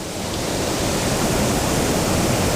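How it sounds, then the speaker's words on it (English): Loud, steady roar of a waterfall rushing right beside a trout creek, a dense broadband wash of falling water filling the whole moment with no break. "I'm sorry if the audio is not good because I'm right next to the waterfalls."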